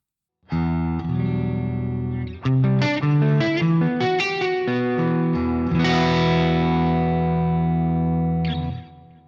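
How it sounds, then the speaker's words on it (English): A crunchy, overdriven electric guitar plays loud chords and a few single-note runs through a Bogren Digital MLC Subzero 100 amp, gritty breakup sustaining throughout before cutting off. "we can get some really nice breakup tones as well"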